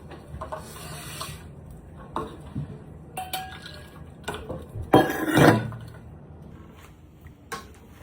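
A spoon clinks and scrapes in a pot while Gujarati kadhi with buttermilk is stirred, scattered metallic knocks and a louder scraping burst near the middle, close up with no voices.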